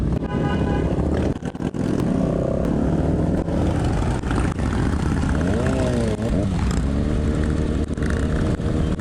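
Big motorcycles from a Makassar motorbike club ride along the road, engines droning loud and near, with revs rising and falling and a horn toot, while a rider talks over the noise.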